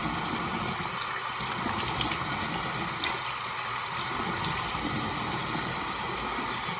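Warm water runs steadily from a tap, a constant hissing splash that holds at an even level from start to finish with no voices.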